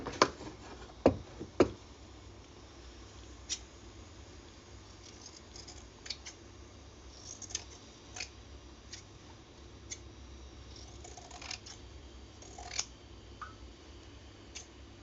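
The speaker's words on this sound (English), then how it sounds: "Scissors." Scissors cutting fabric pieces down to size during sewing: sharp snips near the start, then scattered soft clicks and cuts spread through a quiet room, with no talking.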